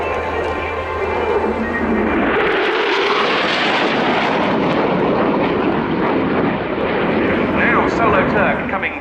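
Soloturk jet aircraft making a low, fast pass at about 100 feet and 600 knots at the RIAT airshow, a loud broadband roar swelling and sustained throughout, with crowd or announcer voices mixed in.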